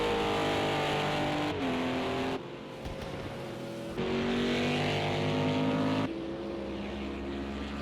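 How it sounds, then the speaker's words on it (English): An Aston Martin race car laps a circuit during a teams endurance race, its engine note rising and falling through gear changes, loud and continuous with brief dips as it shifts. "That Aston Martin, it's going pretty good."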